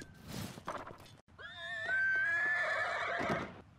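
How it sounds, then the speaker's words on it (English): A horse in a video game, on a bridge, gives one loud, clear whinny with a rising and falling pitch, preceded by a few soft hoof clops and snorts. "I'd hate to lose my horse down this bridge."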